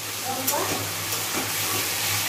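A steady sizzle of vegetables frying in a pan, continuous and close, with a soft scrape or two of stirring over the hiss.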